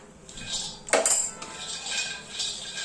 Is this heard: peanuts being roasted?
yes